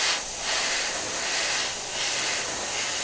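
Metallic base paint sprayed in short light coats onto a Tamiya Volvo FH12 1/14 scale RC truck model: four separate loud hissing bursts, each about half a second, close by.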